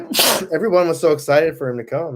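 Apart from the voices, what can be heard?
sneeze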